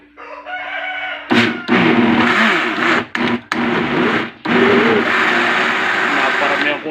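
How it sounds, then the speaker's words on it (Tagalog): An overfilled blender strains as it blends a natural chicken feed supplement, running loud and close in bursts that stop and restart several times, with voices in the background. "Naparami ang kuha ko, medyo nahirapan ang blender."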